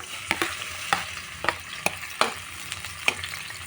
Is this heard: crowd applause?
no